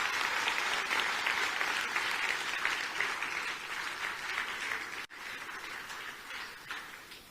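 An audience claps during a prime minister's public speech in Maralik, a dense, sustained round of applause that holds steady, dips briefly, then carries on slightly softer, with no speaking over it.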